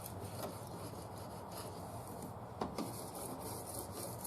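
A knife blade is drawn across a 600 grit whetstone, giving a faint, continuous gritty rasp with a couple of slightly sharper strokes midway, close and quiet without talk.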